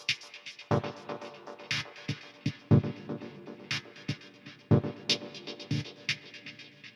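Staccato chords run through tape echo and spring reverb sends, with sharp, repeated stabs and short splashy tails, each hit trailing off into a wash of echoes.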